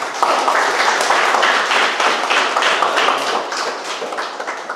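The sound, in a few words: audience applause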